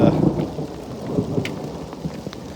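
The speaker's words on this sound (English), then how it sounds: "some more thunder. We're getting some pretty good sized hail coming down now." Rain and hail patter steadily and closely during a mountain thunderstorm on the Pacific Crest Trail near Basin Peak and Castle Peak, with a low rumble of thunder underneath and scattered sharp impact ticks.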